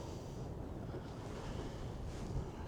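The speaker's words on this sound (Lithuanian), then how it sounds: "Šiandien labai didelis vėjas" Strong wind blowing across a fishing pond, a steady low rumbling buffet on the microphone with a faint hiss of water, with no voices.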